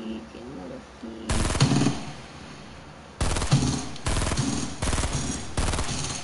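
Bursts of automatic gunfire from the video game Fortnite, loud and close, with a first burst followed by a pause and then several rapid back-to-back volleys.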